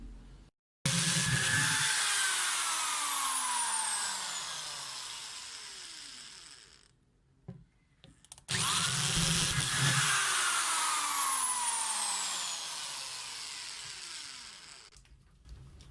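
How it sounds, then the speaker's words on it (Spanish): A power drill bores holes into a plastic compost container in two long, loud bursts, the whine rising and falling in pitch as the bit bites through, with a brief quiet gap between them. "Ahora vamos a adecuar nuestro recipiente para el compostaje haciéndole primero unos agujeros."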